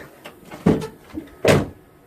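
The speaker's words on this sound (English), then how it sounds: "we can shut the door" A farm tractor's cab door swung and shut nearby, two solid thuds about a second apart with light rattling and clicks between them.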